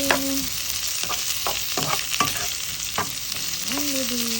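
Vegetables sautéing in a pan, a continuous close sizzle with a handful of irregular stirring scrapes and a brief tonal squeak at the start and end, no talking.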